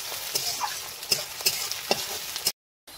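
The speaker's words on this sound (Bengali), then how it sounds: "তারপরে একটু লাল লাল করে ভেজে নিই।" Onions frying in a pan, a close hiss of sizzling oil broken by several sharp scrapes and taps of a spatula stirring, ending abruptly in a short gap.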